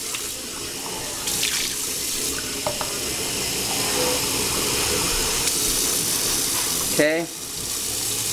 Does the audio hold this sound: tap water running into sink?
yes